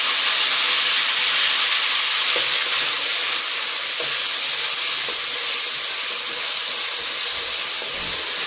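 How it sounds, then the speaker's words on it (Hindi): Tomatoes frying with browned garlic in a pan, a steady loud sizzle and hiss throughout with faint stirring scrapes. "और इन्हें अच्छी तरह से भून लेंगे कि टमाटर जो है वो हमारी अच्छी तरह से भून जाए।"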